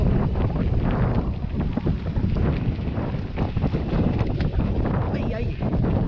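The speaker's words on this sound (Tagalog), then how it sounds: "Ang lamig na hangin ngayon, bundok." Strong gusts of cold mountain wind buffet the microphone in a continuous roar, fairly loud and close, with a voice faintly audible underneath.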